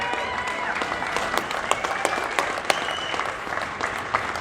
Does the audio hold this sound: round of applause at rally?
yes